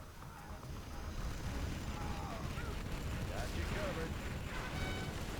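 Bombs go off in the strategy game Command & Conquer Generals Zero Hour, a dense, continuous rumble of blasts and gunfire with tonal battle effects layered on top.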